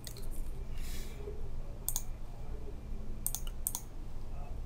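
Computer keyboard typing, a few faint clustered key clicks spaced out over a low steady hum.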